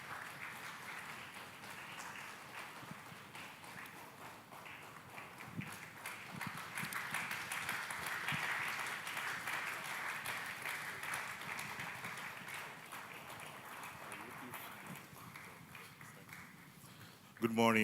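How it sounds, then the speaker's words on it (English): Audience applause at a music and technology festival, sustained clapping from a crowd that swells midway and stays fairly faint and distant, with a brief louder sound at the very end. "Please keep clapping, please."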